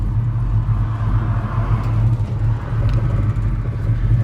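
A 1940 Chevy Coupe rumbles steadily as it pulls away, its low engine drone close and continuous with a faint whirring edge and no voices.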